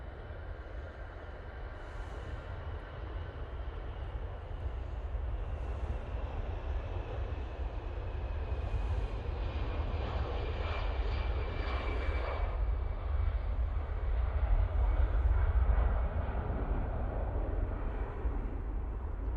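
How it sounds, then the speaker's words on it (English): An easyJet airliner at Manchester Airport starts its takeoff roll, a steady, loud jet engine roar with deep rumble that builds gradually and holds throughout, heard from a distance with no talking. "EasyJet now on the roll."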